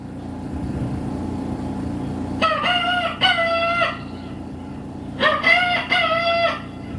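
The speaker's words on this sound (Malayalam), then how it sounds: "പിന്നെ എല്ലാവരും കൂടെ ഒരു കൂവലുണ്ട്." Two loud roosters crow twice, in separate drawn-out calls, close by over a low steady background hum.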